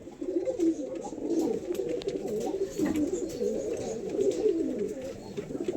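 An Andha Lalshira male pigeon coos continuously at close range, its low, throaty, rolling calls pulsing steadily without a break.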